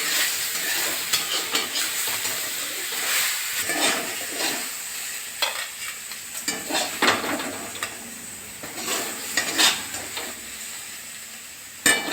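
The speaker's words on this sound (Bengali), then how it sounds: "এই যে আমার হয়ে গেল বড়ি দিয়ে শাক ভাজা" Leafy greens and lentil dumplings fry with chili in a pan, a soft continuous sizzle broken by repeated scraping strokes of a spatula stirring the mix, close and clear.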